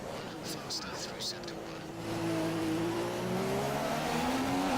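A McLaren Honda Formula 1 car in the racing game F1 2015 drives the Austrian circuit, its engine note rising steadily in pitch as it accelerates, heard moderately loud with faint tire noise at the start.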